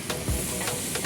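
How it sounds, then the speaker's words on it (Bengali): A whole hilsa fish fries in hot oil at a roadside eatery near Paturia ferry ghat, giving a brief, loud, steady hiss of sizzling. "দর্শক বন্ধুরা দেখতে পারতেছেন আস্ত একটা ইলিশ এখানে সুন্দরভাবে ভাজি করতেছে"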